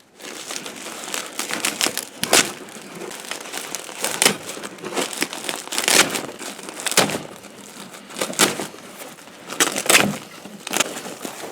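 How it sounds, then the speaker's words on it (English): A plastic shipping bag of worms being cut open around its edges, with crinkly rustles and sharp snips in an uneven rhythm, heard up close. "We're going to cut this bag open."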